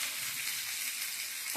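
Broad beans sizzle steadily as they fry in a pan, a continuous bright crackle with light stirring movement, close and even, with a slight clatter near the end.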